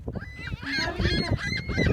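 Seagulls being fed at Point Park call in loud, overlapping honking cries, several birds close by in a rapid clamor lasting the whole moment.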